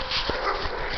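A dog whimpers and yips in short, high-pitched bursts over about a second, heard fairly close and outdoors with background noise.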